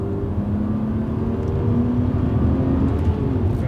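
From inside the cabin, a Subaru Legacy Spec B estate's 3.0 flat-six engine pulls under acceleration, the continuous drone and whir rising steadily in pitch and growing slightly louder against road noise, with no voices.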